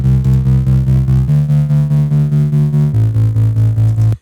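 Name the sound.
big synth bass in future bass track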